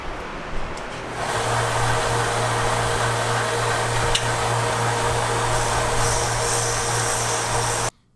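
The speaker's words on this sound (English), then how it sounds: "And now I'm spending some time on the sander, just making sure that she's absolutely perfect and clean." A power sander works over a Garelli VIP moped engine part, starting about a second in with a steady, close, loud whir and a low hum, then cutting off abruptly just before the end.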